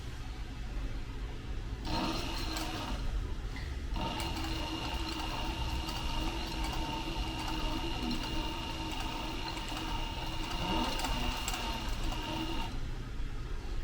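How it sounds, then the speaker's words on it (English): A sewing machine runs steadily, stitching along the edge of leather on a fanny pack, its motor whirring loud and close for most of the stretch with a brief pause near the start. "I'm just going to sew right along the edge of the leather"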